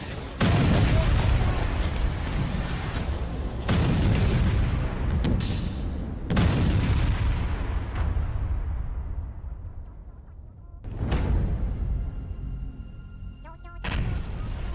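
A B41 rocket-launcher round explodes, followed by a series of loud, heavy booms spread across several seconds, each leaving a rumbling decay; voices are heard between the blasts.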